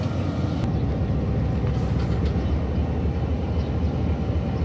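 A trial train's locomotive idles at Quetta railway station in Pakistan, a steady loud low diesel rumble continuing throughout without talk.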